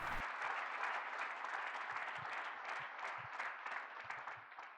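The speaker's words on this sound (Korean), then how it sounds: "하나님께 큰 박수를 드리십시오" A church congregation gives applause to God during a healing service, broad sustained clapping from a large crowd, even and continuous throughout at a moderate distance.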